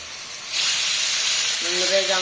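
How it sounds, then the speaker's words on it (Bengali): Fish seasoned with salt and turmeric hitting hot oil in a pan, with a loud, steady hiss and sizzle that swells after a moment and stays close. Faint tonal sounds come in near the end. "মাছটা ভেজে নিচ্ছে"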